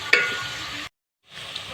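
Half a kilo of chicken frying with two tablespoons of garlic paste for achar gosht, a steady close sizzle and stir that cuts out to silence for a moment, then resumes a little quieter.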